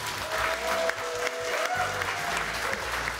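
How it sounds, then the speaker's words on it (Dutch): Studio audience at a Dutch business talk show (Business 010 on RTL Z) applauding a guest, a dense, steady clapping that fills the whole stretch at an even level. "Mag ik een applaus voor mijn tafelgast alsjeblieft?"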